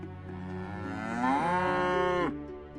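A cow in a cozy shop simulator game gives one long, loud, close moo that rises and then falls, heard alone without talk.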